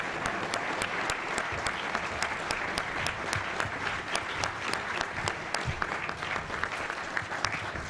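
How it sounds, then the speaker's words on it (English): Steady audience applause fills a National Press Club hall for a guest speaker, dense clapping from a sizeable crowd sustained throughout with no speech. "How about a round of applause for our guest speaker today?"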